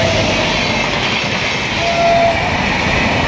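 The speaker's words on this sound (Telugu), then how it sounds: "సో ట్రైన్ అయితే వస్తుంది కదా, నాయిస్ అయితే వస్తుంది." A train rumbles past close by, loud and continuous, with a steady mechanical roar and a faint horn-like tone.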